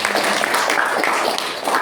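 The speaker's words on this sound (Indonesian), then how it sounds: "Boleh beri tepuk tangan bagi saudara" Congregation applause at a Sunday worship service fills the room as a steady, dense wash of many hands clapping together, loud and continuous for the whole moment.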